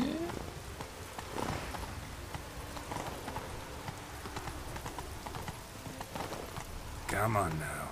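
Hooves of the horse Roach in The Witcher 3 clip-clop steadily at a walk on a slope, clear and close, with someone talking over the steps throughout.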